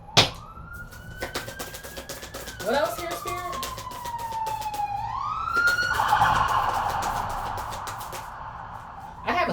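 An emergency vehicle siren wails in the distance with slow rising and falling glides, partly under a person talking.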